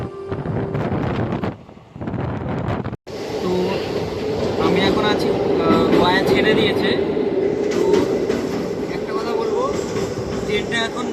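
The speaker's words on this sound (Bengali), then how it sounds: "এই ট্রেনটা হচ্ছে 9482 হাতবাস সামার স্পেশাল এক্সপ্রেস" The 9482 summer special express at a railway platform, a loud continuous rumble of rolling wagons with rhythmic clatter and wind buffeting close by, while a person talks over it.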